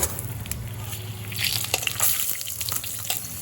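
Cut potatoes sizzle and hiss in hot mustard oil seasoned with whole cumin in a wok, a steady close frying noise with scattered crackles and light stirring clinks.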